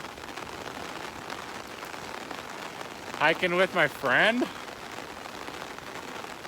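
Steady rain falls throughout a muddy road walk on a hike, a dense even wash of drops that stays constant, with a brief spoken phrase breaking in near the middle.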